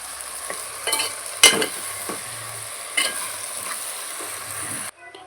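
Chicken curry with dosakaya and potato being stirred in a hot pan, a soft steady sizzle with several scraping stirs of a spoon against the pan, close and clear, before the sound cuts off.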